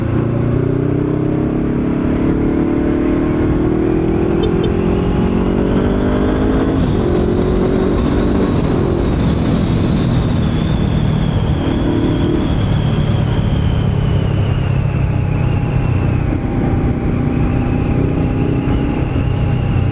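A Honda CBR500R motorcycle engine drones while riding, a loud, soft-toned hum with rising and falling pitch as the rider shifts and changes speed, wind rush underneath, close and continuous.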